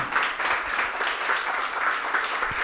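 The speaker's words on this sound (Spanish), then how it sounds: "Esos aplausos son para usted, ¿no?" Audience applause on a local variety program, a steady wash of clapping hands at moderate distance that holds evenly for a few seconds with no clear speech.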